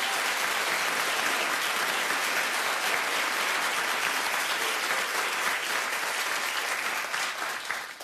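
A studio audience on a daytime talk show claps loudly and continuously for about eight seconds, a thick, even wash of applause that thins out at the very end.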